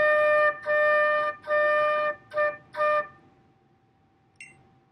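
A flute plays a short eighth-note exercise measure: five clear, sustained tones separated by brief gaps, steady and fairly loud, ending in near silence after about three seconds.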